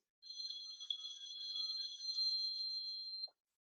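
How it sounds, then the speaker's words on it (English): A phone rings during a virtual real estate lunch-and-learn session, a continuous bright electronic trilling tone lasting about three seconds before cutting off abruptly, heard alone without talk. "My phone is ringing for some reason."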